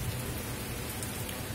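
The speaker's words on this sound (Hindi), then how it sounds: "अभी बारिश हो रहा है" Steady rain falling in Saudi Arabia, a dense, even hiss of drops with no pauses and no voices, moderately quiet throughout.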